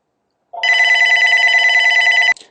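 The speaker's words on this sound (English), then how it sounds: "Sorry about that, the phone was ringing." A telephone bell rings loudly in one continuous warbling burst, a fast trilling two-tone ring lasting about two seconds before cutting off abruptly, with no talk around it.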